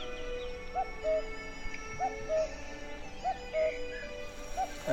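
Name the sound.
dog whimpering and barking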